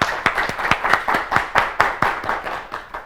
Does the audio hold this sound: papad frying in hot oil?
no